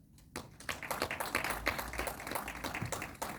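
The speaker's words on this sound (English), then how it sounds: "Another round of applause." Audience applause at the close of a talk, made up of scattered individual claps with uneven rhythm. The clapping is moderately loud, sits close to the listener and carries on steadily for a few seconds.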